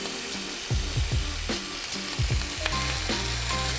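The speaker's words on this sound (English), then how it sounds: "pan-sear it. And let it cook and seal nicely on both sides." Food pan-searing in a hot pan with Sambuca, a steady loud sizzle and crackle running throughout, with repeated low thumps and scrapes as the pieces are moved and turned.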